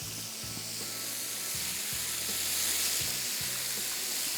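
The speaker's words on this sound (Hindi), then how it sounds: "और ये फ्राई करते जाएंगे, जैसे ही पक जाएगा निकाला बाउल में और अगला फेरा" Beef pieces fry in a pan with a steady, close hiss and sizzle, broken by a few soft knocks and scrapes of stirring.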